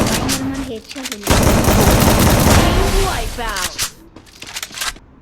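Loud video game gunfire crackles in rapid bursts and single sharp shots, close and punchy, while a player talks over the shooting.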